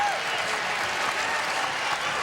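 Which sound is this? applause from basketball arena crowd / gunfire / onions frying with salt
applause from basketball arena crowd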